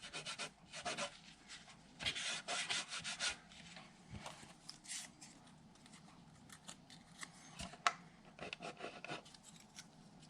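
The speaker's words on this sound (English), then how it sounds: "I mainly just want to get any glue residue off of here without loosening up the repair." Glue residue being rubbed and scraped off a repaired crack on a Koa ukulele body, close-up bursts of dry scratchy rubbing strokes at an uneven pace with short pauses between them.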